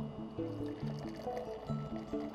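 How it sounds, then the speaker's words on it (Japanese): Draft beer pouring from a fully opened tap into a glass set on a saucer, frothing up hard; a soft steady gush and gurgle with faint background music. "タップを全開にしてビールを"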